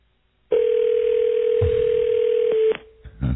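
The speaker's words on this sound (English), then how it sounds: "Is it beeping? Yeah, because you get that beep." A call to a cell phone produces a single steady telephone tone that sounds clearly for about two seconds and then cuts off, followed by a little faint background noise.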